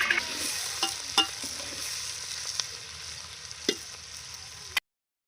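Chopped onions and green chillies fry in a pan for Telangana-style thalakaya kura, a soft steady sizzle with occasional stirring clicks of a spoon, no voices, ending abruptly in silence.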